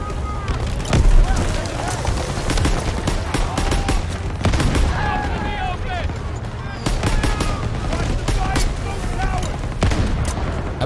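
Rapid gunfire and heavy explosive blasts from a Call of Duty WWII battle, including a grenade explosion, crackle and boom continuously and loudly, with a few sharper bursts standing out and voices talking over the combat.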